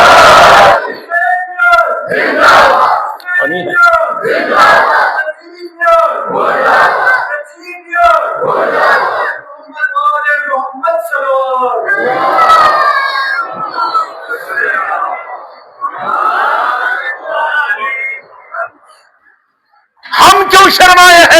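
A crowd at a mourning gathering (majlis) raises the Haidar-e-Karrar chant in loud, rhythmic shouted bursts. A leading voice calls out between them, then there is a brief pause before another loud surge.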